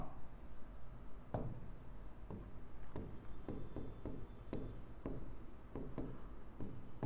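Chalk or marker writes on a board in sharp strokes and taps, irregular and close, carrying on for several seconds with no talking.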